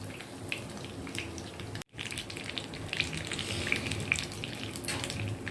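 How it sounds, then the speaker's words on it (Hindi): Egg and chicken snacks frying on a slow flame in a pan, a continuous soft sizzle with scattered pops and crackles, close and steady apart from a brief cut near the start. "इसी तरह से मैं दूसरे साइड से भी बिल्कुल स्लो फ्लेम पर गोल्डन होने तक पकाऊंगी"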